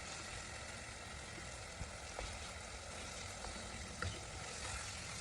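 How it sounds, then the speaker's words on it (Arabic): Chicken shawarma frying in oil in a pan, a quiet, steady sizzle with a few faint clicks and pops close by. "درت واحد الكميه ديال الزيت ودرت ضفت عليها داك الشاورما وكتبقى كطيب هنايا"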